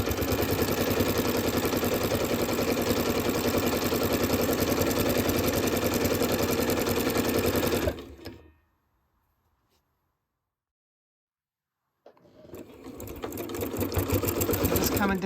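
A sewing machine stitching fabric hums with a loud, steady mechanical clatter, stops for a few seconds of near silence, then starts up again and runs at full speed.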